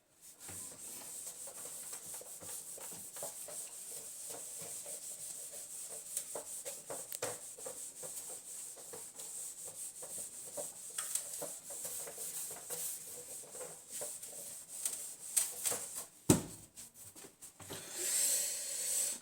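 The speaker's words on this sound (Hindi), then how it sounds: "चलिए भाई इसे रब करते हैं" Steady, faint, scratchy rubbing across paper goes on for almost twenty seconds at a close, even level, with no voices.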